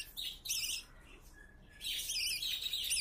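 A budgie chirping nearby: two bursts of quick, bright, high-pitched chirps separated by a short quiet gap, clear and fairly loud with no talking.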